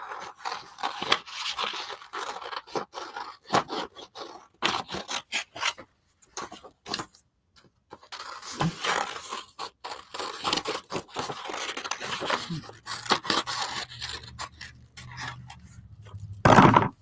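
Collage paper is cut out with scissors for a mixed media project, making close, dry snipping and rasping strokes in irregular runs with short pauses, and a low hum near the end.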